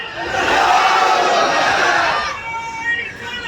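A large crowd at an Urs gathering shouts religious slogans in unison, a loud, massed roar of voices that swells, holds, then fades into a quieter tail.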